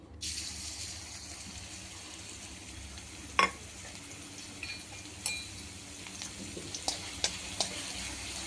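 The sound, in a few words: green chilli, garlic and cumin paste frying in oil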